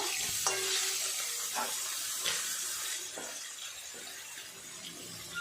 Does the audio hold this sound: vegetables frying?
yes